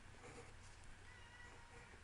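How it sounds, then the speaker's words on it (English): A cat meows faintly a few times in the background of a quiet room, the cries soft and partly buried in low steady room noise with no talking. "I apologize for the cat meows."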